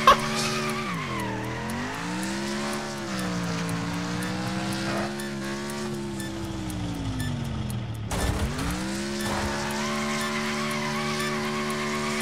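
A car in the racing game Wreckfest skids and drifts, long sustained tire squeal with a wavering engine drone rising and falling, loud and continuous with a brief jolt partway through, no talk over it.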